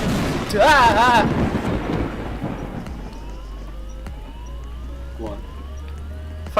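Loud thunder rumbles and cracks during a rainy spell, a long low roll fading over several seconds while a person talks and exclaims over it, with a video game's sound effects in the background.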